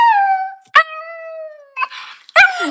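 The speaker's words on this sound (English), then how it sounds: "He literally starts howling." A dog howls loudly nearby in several long, sustained, wavering tones separated by short yips and whimpers, no voices.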